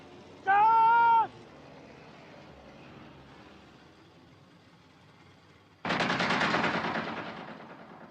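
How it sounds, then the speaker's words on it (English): Gunfire from warning shots in a film scene, arriving as a sudden loud burst of rapid shots late on, after a brief high tonal cry and a quiet stretch. "Maybe warning shots, sir."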